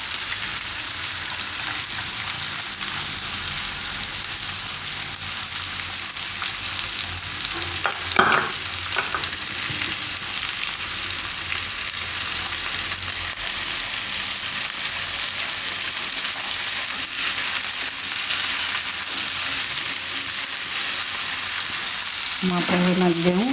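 Cashews frying in a pan while cooking carrot and pea pulao, a continuous loud sizzle with occasional scraping stirs of a utensil and a brief metallic clink near the end.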